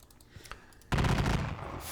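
Musket volleys crackle in a Napoleonic battle video game, a few scattered pops followed by a sudden dense burst of sustained gunfire rattling on.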